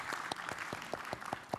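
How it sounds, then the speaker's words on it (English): Scattered clapping from a small audience at a panel discussion, a few distinct sharp claps over a faint background, quiet and brief. "Yeah, let's clap for that."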